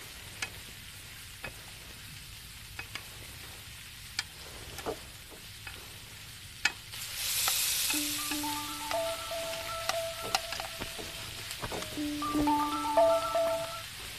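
Fish frying in hot oil in a home kitchen, a quiet steady sizzle with spits and crackles, then a louder burst of sizzling as the fish hits the pan, with faint clinks of utensils.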